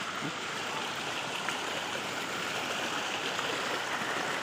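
Water rushes across a dirt road like a stream, a continuous, fairly close broadband wash with no pauses, steady in level from start to end.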